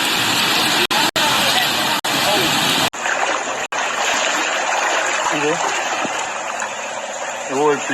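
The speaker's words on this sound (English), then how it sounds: "The whole place is under water." Floodwater pours and rushes in a constant loud wash during storm flooding in Jamaica, with a few voices and some splashing audible above it.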